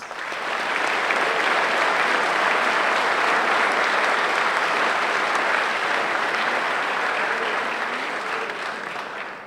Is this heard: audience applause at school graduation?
yes